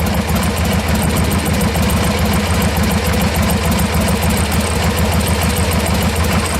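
A Harley-Davidson Sportster 1200 engine idles at about 800 RPM, close and loud, with a steady uneven lumpy beat and mechanical rattle and no talking.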